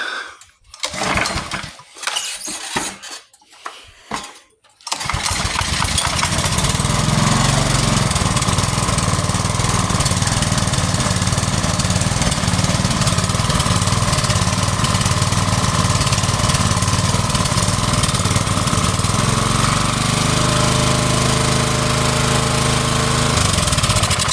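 A small petrol engine on a restored pressure washer is pulled over a few times with sputtering bursts, then catches and runs loudly at a steady, rattling idle for the remaining twenty seconds, with no talk.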